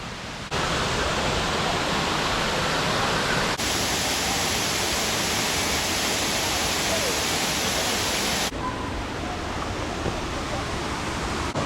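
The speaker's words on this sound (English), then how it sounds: "I think this might be the nicest waterfall I've seen on this trip." A waterfall roars as a steady, loud broadband rush of falling water that fills the whole span, shifting slightly in tone partway through as if the listening position moves, with no voices heard.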